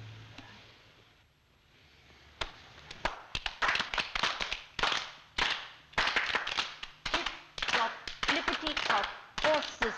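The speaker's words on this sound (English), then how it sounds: "When you hear me starting to clap, you can join in and it will go on." Rhythmic hand clapping at close range, a steady train of sharp claps starting after a quiet opening and continuing to the end, with a faint voice early on.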